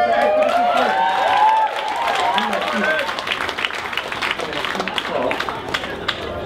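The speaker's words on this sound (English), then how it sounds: "A round of applause." Crowd applause and cheering at a drag cabaret show, with voices calling out over the start before the clapping carries on as a steady, close, busy patter.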